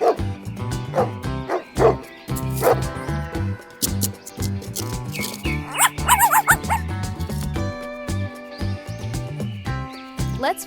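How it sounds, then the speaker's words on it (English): Cartoonish dogs on a toy farm diorama bark, yip and whimper in short bursts, set loudly over bouncy background music. "Wow! Dogs!"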